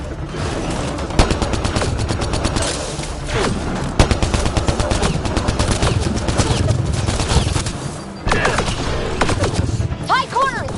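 Dense gunfire in the sci-fi shooter Mass Effect Andromeda, rapid repeated bursts and heavy thuds running continuously and loudly, with shouted voices mixed into the battle.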